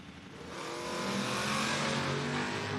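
Drag racing cars at the 2025 FRBR Door Wars accelerate hard down the strip, a loud, broadband engine roar swelling over the first second and holding steady to the end.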